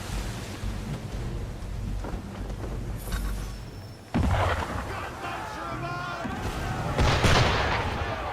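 Ship cannons fire in the Assassin's Creed III video game, heavy booms landing amid rushing water and rain-like noise, with a big blast midway and more rumbling after; voices talk during the scene.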